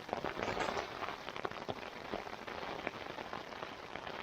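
Steady rain patters on a tent at Robson Pass Campground during a sun shower, a dense, even hiss of drops with occasional sharper taps, close and moderately quiet, with no talking.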